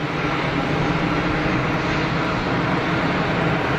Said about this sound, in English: EasyJet about to rotate.